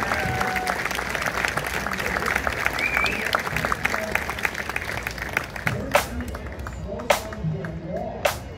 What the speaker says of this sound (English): Let's give a nice round of applause for our friends from Denver, Colorado